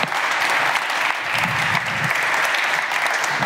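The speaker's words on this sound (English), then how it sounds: "From public job, a big round of applause." Steady, dense applause from a conference audience at a ministerial eGovernment event, loud and continuous throughout with a faint voice underneath.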